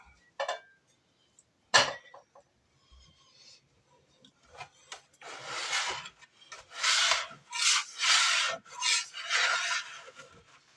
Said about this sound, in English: I use a block scraper for everything all the time.